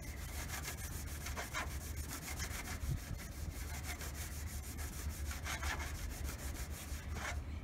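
Hand-rubbing polish into the worn, faded paint of an old car, a steady, continuous scrubbing friction close by with repeated back-and-forth strokes and a low background hum, no voices.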